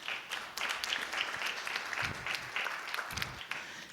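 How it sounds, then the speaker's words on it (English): A summit breakfast audience applauds for themselves, a moderate, continuous patter of many hands clapping at middling distance. A few low thumps and faint murmurs sit underneath. "a round of applause for yourselves"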